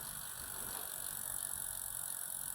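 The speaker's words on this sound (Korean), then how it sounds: "크랭크를 돌리면서 변속을 하고" A bicycle crank is turned by hand during shop assembly while the gears are shifted to set up the derailleur. A soft, continuous ratcheting whir of the drivetrain sounds up close and at low volume.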